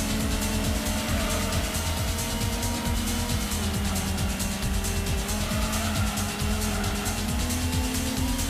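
A 1993 Honda Civic races in Gran Turismo on the PS1, its engine droning steadily and loud throughout with tire squeal along the way.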